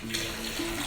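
Water gushes steadily from a hotel bathtub tap as the tub fills, a continuous close hiss with no pauses or talk.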